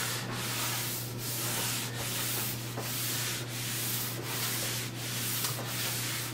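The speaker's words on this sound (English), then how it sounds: "wipe it down, rub it down, burnish it until you don't see any product coming off on the cloth" Finish being rubbed into a live edge wood slab with a rag for an entryway console table, heard as continuous close rhythmic back-and-forth rubbing strokes, roughly one every 0.8 seconds, over a low steady hum with no talking.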